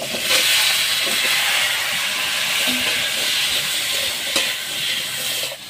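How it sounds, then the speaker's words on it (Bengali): Rohu fish curry with potato and green banana cooking in a wok, giving a steady broad sizzle and hiss with soft stirring scrapes and an occasional sharp clink. "মাছের ঝোল করবো, তাই কড়াইতে রান্না বসিয়ে দিচ্ছি"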